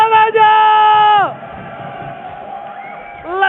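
An arena crowd at a Mobile League esports match roars and cheers, with a sustained shouted, whooping voice at first, then a dense wash of crowd noise that swells again at the end.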